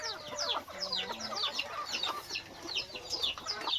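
A mother hen clucks near her newly hatched chicks, with repeated close clucks and bursts of high, thin chick peeps overlapping continuously throughout.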